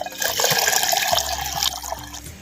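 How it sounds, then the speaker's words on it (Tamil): Plain water is poured over washed raw rice and fenugreek seeds in a pot to soak before making appam, a close, loud splashing gush that lasts a couple of seconds. "தேவையான அளவு பச்சை தண்ணி சேர்த்து ஊற வச்சுக்கிட்டுருவோம்"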